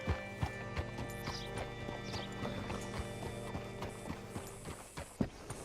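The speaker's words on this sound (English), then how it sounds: "Hitch your horse up here." Steady rhythmic clip-clop of horse hooves in the video game Red Dead Redemption, close and continuous over a soft ambient bed, with a brief louder knock near the end.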